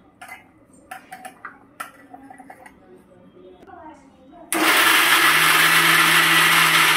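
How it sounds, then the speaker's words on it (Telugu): A mixer grinder coarsely chops small carrot pieces for carrot halwa, starting abruptly partway through as a loud, steady whirring drone after some quiet kitchen clatter and faint sounds. "ఈ చిన్న చిన్న ముక్కల్ని ఇప్పుడు లైట్గా సన్నగా చిన్న చిన్న ముక్కలు వచ్చేలాగా మిక్సీ వేసేసుకుంటాను"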